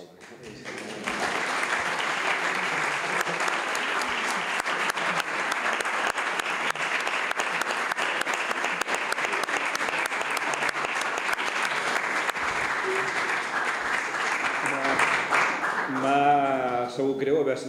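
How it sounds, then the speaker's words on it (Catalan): Sustained audience applause at a philosophy evening talk, a dense even wash of clapping that runs for over fifteen seconds before a voice resumes speaking at the end. "ja podrà aplaudir, si vol"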